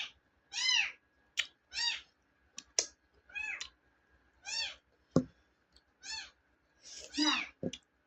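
A cat meows again and again while being fed milk, about a dozen short, clear mews in an uneven rhythm, with a few light clicks and taps in between.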